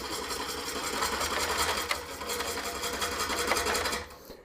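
A wood lathe turning a green cherry bowl, a steady close mechanical whir with rapid rhythmic chatter from the out-of-true blank, then winding down near the end.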